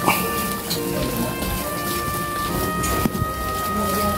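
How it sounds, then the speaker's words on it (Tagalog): Light drizzle falls outdoors in a narrow alley, a steady soft hiss of rain throughout, with a person talking over it. "Medyo maambon-ambon."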